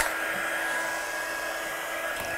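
Heat gun blasting hot air over freshly stamped watercolour ink on paper, a steady continuous whoosh with a faint whine, close and constant throughout.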